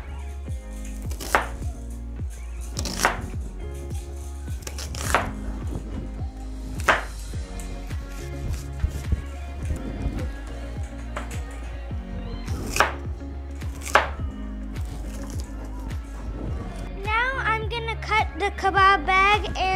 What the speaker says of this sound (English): Now let's chop onions.